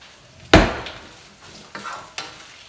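Corn tortillas dropped into hot oil in a pan for chilaquiles verdes, a loud burst of sizzling as they hit, then softer frying crackle with a couple of brief stirring or scraping sounds.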